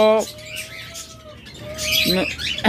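Budgerigars, diamond doves, lovebirds and cockatiels kept at a commercial bird farm let out a few loud, harsh squawks, separated by softer chirping in the background.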